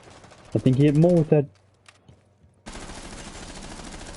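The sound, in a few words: gunfire from pre-firing in the video game Rainbow Six Siege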